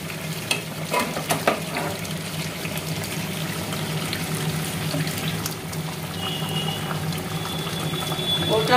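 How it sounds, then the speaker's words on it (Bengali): Hot boiled water is poured from a bowl into a pot of cooked chicken curry, giving a continuous bubbling, splashing pour over a low simmering hum for several seconds; no voices. "গামলায়, আমি জলটা দিয়ে দেবো।"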